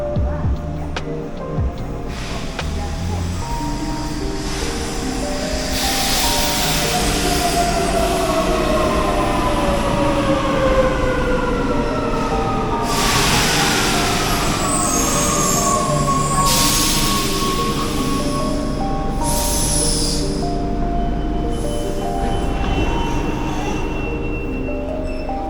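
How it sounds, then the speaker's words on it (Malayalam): Metro train pulling into a station in Italy, a steady loud rumble with rising and falling squeals of wheels and brakes as it approaches and slows, no talking over it. "നമുക്ക് പോകാനുള്ള മെട്രോ അതെ അവിടെ നിന്ന് അങ്ങ് അകലയിൽ നിന്ന് വരുന്നതാണ്."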